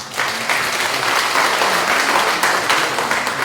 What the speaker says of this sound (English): let's give this gentleman a big round of applause